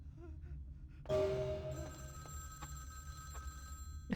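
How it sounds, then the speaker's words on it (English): A telephone bell starts ringing partway through, loud and close, with its bright repeating rings rising out of a quiet room background and continuing to the end. "The phone's ringing."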